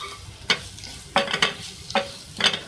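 Softened fried onion stirred with ground red chili powder in a pan: four or five separate scraping strokes with a light sizzle between them, close and fairly quiet, no talking.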